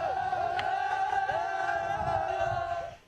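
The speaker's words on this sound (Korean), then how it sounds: "무한한 격정과 환희에 넘치어 목청껏 만세의 함성을 터치 올렸습니다" A large crowd on a march toward Mount Paektu shouts sustained hurrahs of manse together, a loud, steady, chant-like roar that holds for about three seconds before cutting off.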